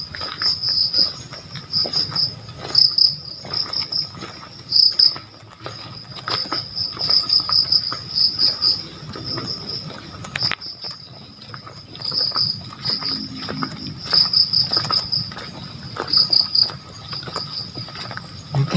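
Crickets chirp in steady bursts around an outdoor film studio set during the day, a continuous high insect trill with a low background rumble throughout.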